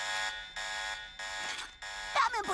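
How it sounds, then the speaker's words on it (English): A cartoon alarm blares from a sandwich in a Teen Titans Go! scene, sounding as a loud electronic buzzing tone in repeated bursts with short gaps, followed by a warbling siren-like sweep at the end. "Batman put an alarm on his sandwich?"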